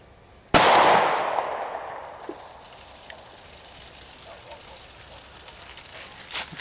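A single sharp 9mm gunshot from a Beretta 92F pistol cracks out loud and close, its blast decaying over a couple of seconds into a wet, gushing hiss, with a few faint knocks and a brief snap near the end.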